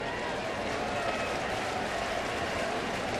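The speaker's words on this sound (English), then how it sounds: "A sarcastic cheer from the folks here at Busch Stadium" Sarcastic cheer from a baseball crowd at Busch Stadium, a dense, steady wash of cheering and clapping from many fans throughout, fairly distant and even in level.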